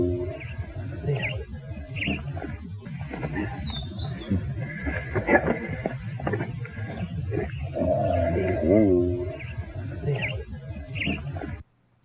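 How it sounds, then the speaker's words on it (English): Bird chirps and short tweets repeat through a looped outdoor recording, light calls scattered over a steady low rumble and hiss, with brief squeaky calls midway and a stretch of louder background before it cuts off. "You got birds too."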